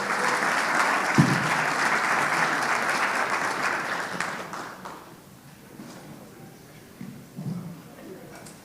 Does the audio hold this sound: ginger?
no